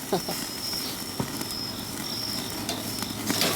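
Ribeye steak searing over flaring flames on a Weber 18-inch kettle grill, a steady crackling sizzle with faint pops, continuous and moderately loud.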